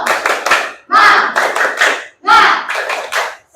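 A classroom group performs a rhythmic spirit clap, several quick patterned hand-clap bursts with short pauses between them, loud and close, with voices mixed into the claps.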